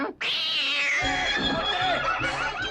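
A cat in the animated film 101 Dalmatians gives a long, drawn-out yowling meow that wavers in pitch and is close and clear, with a short pause near the start and no talk.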